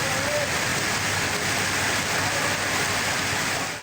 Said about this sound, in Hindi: मंडी, बहाउद्दीन, शकरगढ़, जफरवाल समेत दीगर शहरों में भी हल्की और तेज बारिश हो रही है।